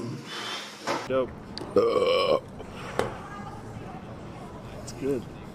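A man lets out several close burps, including one long, loud, drawn-out belch in the middle and shorter ones around it, with brief talking in between.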